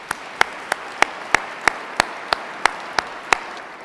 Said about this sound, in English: why don't we give them a round of applause for that?